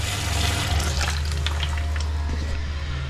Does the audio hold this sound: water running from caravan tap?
yes